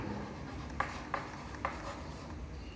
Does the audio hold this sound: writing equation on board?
yes